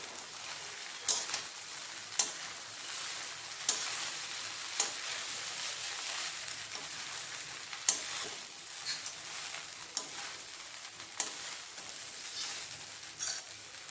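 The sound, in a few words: stirring poha (flattened rice) polao ingredients together in a pan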